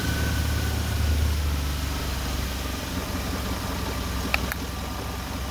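A Jeep Grand Cherokee WJ engine idles steadily in a low, even rumble with a constant drone and no voices, apart from a couple of faint brief clicks near the end.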